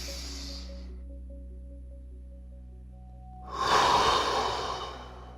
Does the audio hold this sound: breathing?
yes